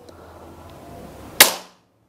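A single sharp shot from a Sharp Pasopati air rifle cracks out after a quiet moment, close and loud, then quickly fades to silence.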